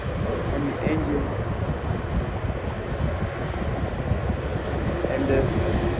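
An Emirates airliner passes by during planespotting at Schiphol, its engines a loud, steady broadband roar that holds throughout, with people talking over it.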